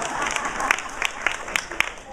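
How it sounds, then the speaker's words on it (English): Applause from a conference audience in Honolulu, a moderate wash of clapping with several sharper, distinct claps rising above it, heard at medium distance and mixed with faint crowd murmur. "So give me a big round of applause."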